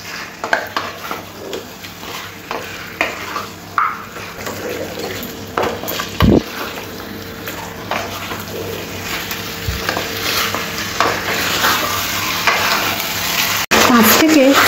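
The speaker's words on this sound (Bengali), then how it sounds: "চিকেনটা খুব ভালো করে মশলার সাথে কষতে হবে।" Marinated chicken with spices and a little sugar is stirred in a pan, giving a close, continuous sizzle broken by repeated scrapes and clinks of a spatula against metal.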